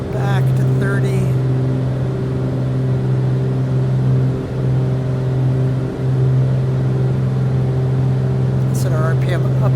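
A twin piston-engine Beechcraft Duke in cruise, a loud steady drone with a strong low hum filling the cabin and a brief voice-like warble near the start and end.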